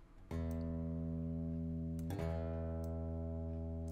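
Electric guitar played through a Tonex ONE amp model of a traditional boutique tone with reverb: two sustained, ringing chords, the first struck alone and left to ring, the second struck about two seconds later, both held loud with no talking.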